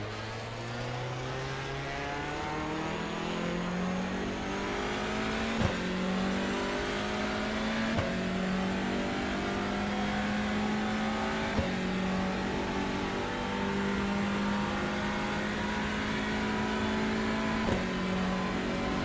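A race car in the Le Mans Ultimate/iRacing sim pulls out of the pit lane, its loud engine note climbing steadily through several sharp upshifts, continuous and close throughout.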